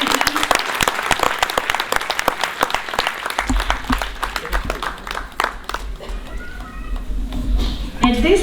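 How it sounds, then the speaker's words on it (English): Loud audience applause at a community concert fundraising event, dense clapping that thins toward the end while low-pitched voices and a hum rise underneath. "Big round of applause for Ajit."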